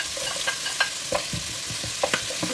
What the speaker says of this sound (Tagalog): I-fry natin saglit.